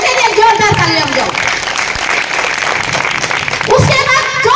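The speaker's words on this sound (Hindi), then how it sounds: "एक बार उन लेडीजों के लिए जोरदार तालियां बजाओ।" Crowd of women and men at a packed community gathering in Rohtak breaks into loud, sustained applause and cheering, with voices and a child's speech mixed into the roar.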